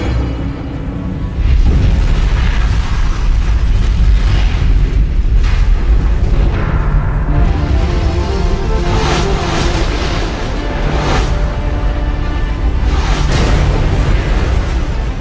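A meteoroid explodes over a city in a massive, sustained roaring blast, with deep rumbling booms and bursts of crackling debris rolling on for many seconds, loud and with no talking.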